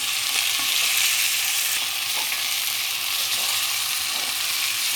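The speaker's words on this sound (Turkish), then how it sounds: "Tekrar kavurmaya devam ediyorum." Tomatoes and tomato paste with spices sautéing in a pan for a minced-meat pasta dish, a steady close sizzle and crackle of frying that runs unbroken throughout, with no voices.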